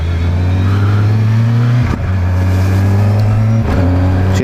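A 2019 Kawasaki Versys 1000 motorcycle pulls hard with a loud steady engine drone, broken by two brief quick-shifter gear changes that cut the tone before it climbs again.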